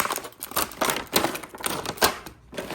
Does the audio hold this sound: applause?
no